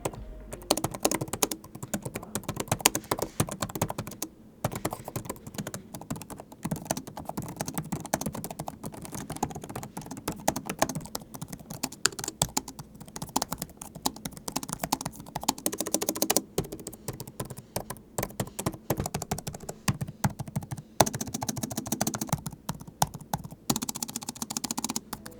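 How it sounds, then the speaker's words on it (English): Rapid, continuous key clacks from a Framework 16 laptop keyboard, close and steady, with irregular bursts of typing and brief pauses, no voices. "Let's actually take a quick listen to how these switches sound."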